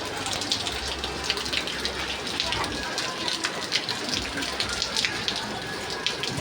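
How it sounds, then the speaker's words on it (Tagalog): Rain pours down on a midday, an unbroken hiss of drops pattering on surfaces close by, heavy and even throughout with no voices over it. "Maulan pala dito guys sa amin."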